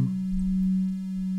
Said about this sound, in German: ich habe jetzt hier einfach mal einen Testton